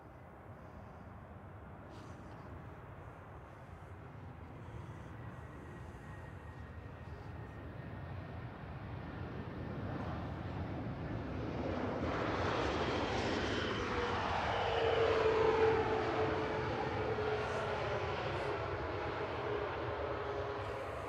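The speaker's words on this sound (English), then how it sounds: "So this is Ryanair from Poznan with flight 7547, 1-year-old 737 MAX 8-200 EI IFR." A Ryanair Boeing 737 MAX 8-200 jet at Manchester Airport, heard as a distant roar that grows louder and swells to a broad whooshing peak midway, then holds steady as the aircraft passes.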